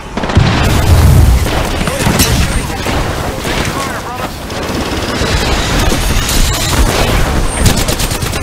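A thermite grenade goes off in the battle royale shooter Apex Legends, its loud boom opening a dense wash of crackling fire and rapid gunshots that carries on to the end.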